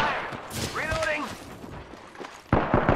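Bursts of gunfire and explosive booms in a tactical shooter video game, loud and close, mixed with a radio-like voice and a sudden heavy volley at the end.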